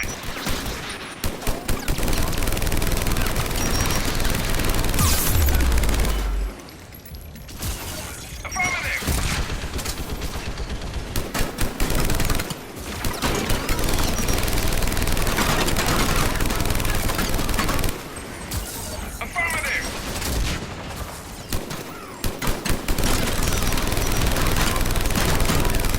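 A gas turret fires in Mass Effect Legendary Edition combat, dense rapid bursts of loud gunfire and crashing impacts filling the scene, with short quieter gaps between volleys.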